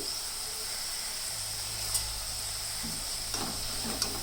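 Cauliflower fries in a pan with a soft, low sizzle and hiss, fairly quiet and steady, broken by a few brief clinks or spatters near the end. No one speaks.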